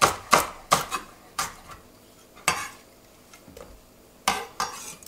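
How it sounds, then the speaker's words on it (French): A knife chops a shallot on a cutting board in a home kitchen, giving a series of sharp, irregular taps close by with short pauses between cuts. "On va tailler un petit peu la échalote."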